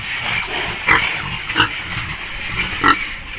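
Pigs at a Philippine farm pen where the animals are being weighed, giving three short grunting squeals about a second apart over a steady background murmur, close and moderately loud with no talk.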